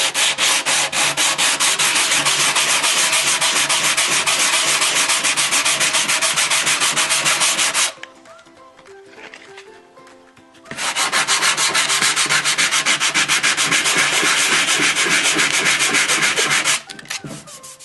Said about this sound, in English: to sand it, what I use is either a block of wood and a piece of fairly medium grade